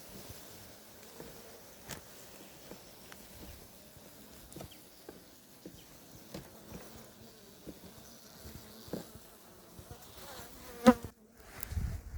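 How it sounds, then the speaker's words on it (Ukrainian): Honeybees of the Ukrainian steppe breed crawl over hive frames, making a continuous faint buzzing hum with occasional soft clicks and knocks of the frames. "Ось такі рамки. Ось вони вже корму стільки під'їли."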